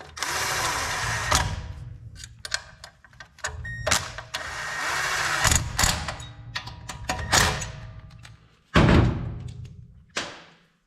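A Briggs & Stratton 5.5 HP Intek engine on a 20-ton log splitter is pulled over repeatedly, with uneven engine bursts, thumps and brief sputters between attempts, close and loud.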